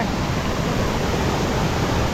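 Maranatty waterfall in the Attappadi area of Kerala, a steady, loud broadband roar of falling water that fills the whole clip without letup and with no voices.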